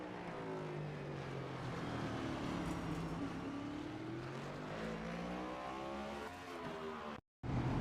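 A NASCAR stock car engine refiring and running after a spin at the LA Coliseum speedway, a steady distant drone with rising and falling pitch that cuts out briefly near the end before returning.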